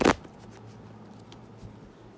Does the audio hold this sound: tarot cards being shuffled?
yes